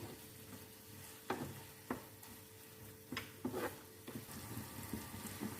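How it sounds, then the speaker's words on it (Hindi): Eggs for egg bhurji are stirred in a pan with desi ghee, a quiet low sizzle broken by a few sharp spoon scrapes and taps against the pan, close by with no voices. "अभी हम अंडे को मिक्स कर लेते हैं"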